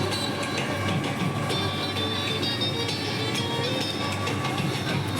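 A small amusement ride train at the Erragattu village fair rumbles along continuously with a steady rattling clatter, nearby and fairly loud, with no voices.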